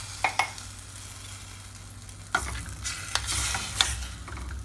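Fish dolma with carrots cooks in a pan, giving a low steady sizzle with a few sharp scraping knocks of a utensil stirring, close and moderately loud with no voices.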